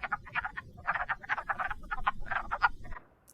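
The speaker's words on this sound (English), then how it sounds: "a wood frog" Wood frog calling in a rapid series of short, duck-like clucking croaks, close and clear, continuing in quick bursts against a quiet background.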